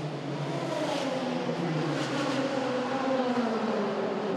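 A Lotus GT300 race car crossing the finish line during a 2020 Super GT round at Fuji: a steady, moderately distant engine drone whose pitch slowly rises and falls, with no talk over it.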